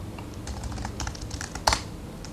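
Keys clatter on a computer keyboard at close range as a Linux command is typed in a quick, uneven burst of clicks, ending with one sharper keystroke.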